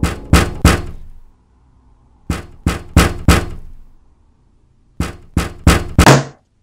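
Knocking on a window, used as a horror sound effect: three groups of three or four sharp, loud raps separated by silent pauses, close and alone.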